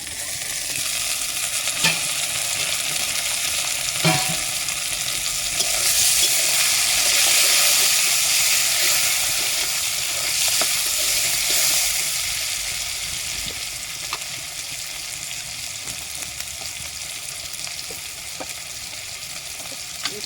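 Eggs and potatoes fry in a pan for a potato-egg curry, a steady close sizzle with occasional pops and a brief louder hiss partway through, with no voices over it.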